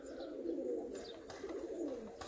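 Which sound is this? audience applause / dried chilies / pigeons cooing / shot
pigeons cooing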